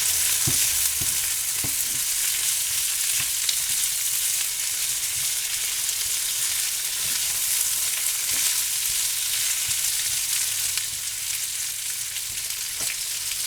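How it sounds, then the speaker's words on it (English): Meat and onion fry in a pan with a loud, continuous sizzle while occasional spoon strokes tap and scrape, all without speech. "Stir it around."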